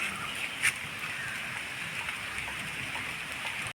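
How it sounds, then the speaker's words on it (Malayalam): Rain that is growing heavier pours steadily outdoors as a continuous, dense hiss of drops, with no talking. "മഴ കൂടിക്കൊണ്ടിരിക്കുകയാണ്"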